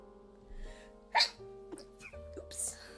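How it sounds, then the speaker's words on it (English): A person's sneeze bursts out once, loud and close, amid quiet room tone and faint background music, followed by a few softer vocal sounds. "I did not expect to sneeze so much."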